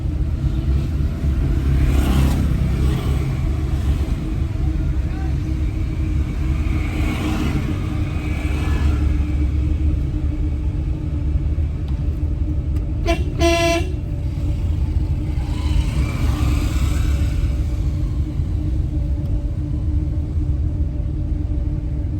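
A car engine hums and rumbles steadily throughout an Indian driving lesson on a busy road, with a short honk partway through and no clear speech.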